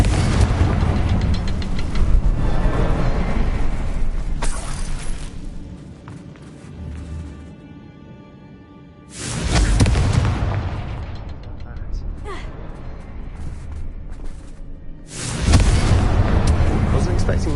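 Fire-spell explosions in the video game Hogwarts Legacy, three loud booming blasts spaced several seconds apart, each followed by a rumbling decay under continuous game music and ambience.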